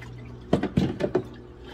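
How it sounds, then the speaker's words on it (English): Liquid splashes and sloshes in a few quick strokes as five gallons of hydroponic nutrient water are stirred, close and brief over a low background hum. "that was 5 gallons, we are going to stir everything up"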